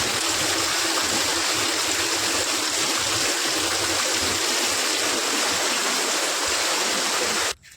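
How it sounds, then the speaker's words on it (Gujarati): Heavy monsoon rain pours steadily into a flooded home courtyard, a loud, dense, continuous rush of streaming and splashing water that holds unbroken close by until it cuts off at the very end. "હજી વરસાદ ચાલુ જ છે વરસાદ બંધ થવાનું નામ જ નથી લેતું"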